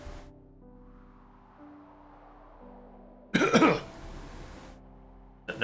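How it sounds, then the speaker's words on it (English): A video game character breaks into a coughing fit: a loud, harsh burst of coughs about a second long over a quiet, droning ambient game soundtrack, followed by another short cough starting at the end. "The next moment, I lose my balance in a coughing fit."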